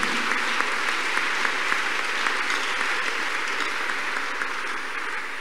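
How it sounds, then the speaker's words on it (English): A church congregation clapping their hands in praise, a continuous, even wash of many hands at moderate loudness with no voices on top. "Clap your hands unto God of the choosing."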